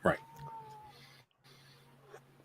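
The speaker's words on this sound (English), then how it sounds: "I don't know if you guys are hearing my cat meow all over the place" A house cat lets out a drawn-out meow at the start, fairly close and clear, then the room settles into a low steady hum with faint rustling and a brief quiet gap.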